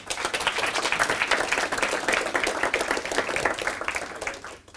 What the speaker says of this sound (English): Give Jeffrey a round of applause.